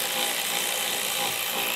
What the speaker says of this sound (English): we are gonna remove those using an 8 millimeter socket